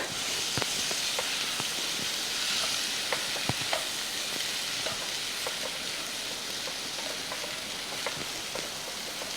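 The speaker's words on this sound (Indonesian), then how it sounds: "Dan kita aduk." Cooked chicken filling is stirred in a pan off the heat, with steady soft hissing and faint sizzle under scattered light scrapes and taps of the utensil, close and fairly quiet with no talk.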